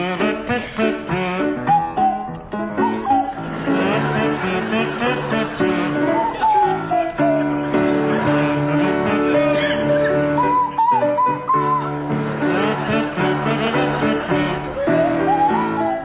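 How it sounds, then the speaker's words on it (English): A kazoo and a swanee whistle play the tune of the Camptown Races together before a live comedy-panel audience, buzzing melody joined by sliding whistle glides throughout. "Will you provide us with a version of the Camptown Races featuring Fred MacAulay on the kazoo and Tim Brooke-Taylor on the Swanee whistle?"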